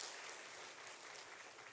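A church congregation applauds together after a sung performance during a Sunday worship service, a steady wash of clapping that stays fairly quiet and distant for its whole length.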